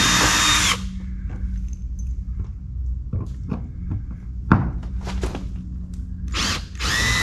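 An adjustable impact driver backs bronze screws out of boat wood, an opening loud whir followed by close clicks, knocks and short bursts of the tool against a steady background hum.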